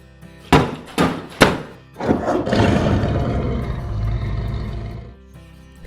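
Three heavy knocks on a door, then a long, loud cartoon dinosaur roar that rumbles for about three seconds before fading, with no voices.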